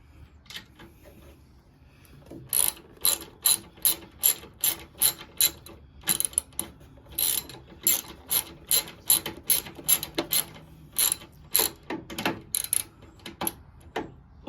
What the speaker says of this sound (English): I'm just going to quickly tighten it.